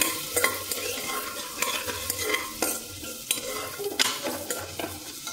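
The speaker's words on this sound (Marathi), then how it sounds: "कांदा छान गोल्डन ब्राऊन होस्तवर परतायचा आहे" Onions sizzle and crackle in hot oil, frying toward golden brown, while a spoon scrapes and stirs the pan in irregular strokes, close up and without voices.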